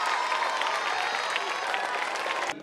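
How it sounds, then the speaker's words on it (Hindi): Loud, dense applause from a large gathering welcomes a teacher at a Jawahar Navodaya Vidyalaya alumni meet in Mandsaur, a steady rush of clapping that cuts off abruptly near the end. "जोरदार तालियों से स्वागत हो सर का।"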